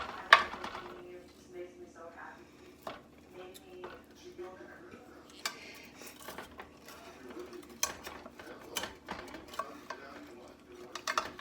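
A knife and spatula work through a cheesy fried potato bake fresh from the oven, with soft scrapes and light clinks of metal on the dish, scattered taps over quiet kitchen background.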